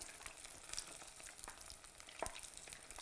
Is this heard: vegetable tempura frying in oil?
yes